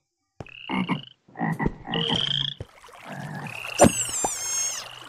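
Frog croaking in a modded Minecraft survival game, several clear separate croaks in an uneven sequence, close and fairly loud, with no talking.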